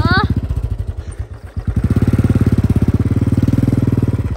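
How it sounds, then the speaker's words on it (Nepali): A motorcycle being ridden along a rough path, its engine close and loud with a rapid pulsing thump that briefly dips then steadies, a voice heard at the start. "ल गाइज अब हामी दाइले चाहिँ यस्तो बाटोबाट बाइक लाँदैछ"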